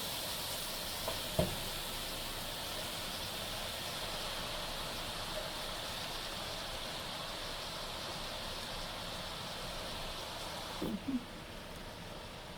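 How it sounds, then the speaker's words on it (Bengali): Washed water spinach greens sizzle in a frying pan with a soft, steady hiss that stays faint and even throughout, broken by a couple of brief knocks. "প্যানে দিয়ে দিলাম শাকগুলা"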